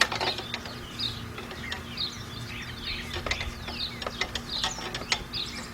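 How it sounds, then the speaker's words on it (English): A chrome Craftsman ratchet with a deep 10mm socket skips and clicks during a water pump job on a Cadillac, Oldsmobile or Pontiac, giving irregular close rattling clicks, with faint bird chirps in the background. "This chromey ratchet, man, skips. And it's a Craftsman."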